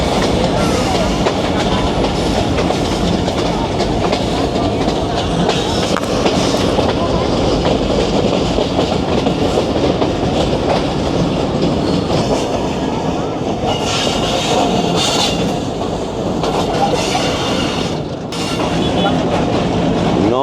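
Train 267UP running on rails from Rawalpindi toward Havelian, approaching Haripur station: a continuous, loud rolling rumble with rhythmic clickety-clack of wheels over rail joints throughout, steady and close from inside the moving train.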